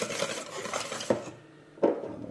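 A spoon scraping and stirring a galette des rois almond filling in a bowl, with repeated close rasping strokes and a couple of sharper knocks against the bowl.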